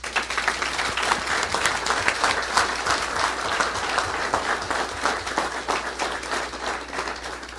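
An audience at a city council meeting claps steadily in sustained, dense applause that holds at an even level throughout before tapering slightly at the end.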